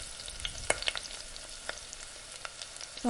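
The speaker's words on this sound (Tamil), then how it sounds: "நான் பிரியாணி கட் பண்ணி வச்சுருந்த ஆனியன்ஸு சேர்த்தாச்சு. நல்லா ஆனியன்ஸ் வந்துட்டு கலர் சேஞ்ச் ஆகிற வரைக்கும் குக் பண்ணிக்கலாம்." Chopped onions sizzle steadily in a pan while frying for egg biryani, with a few sharp clicks of a spoon stirring them, all fairly quiet and close with no voices.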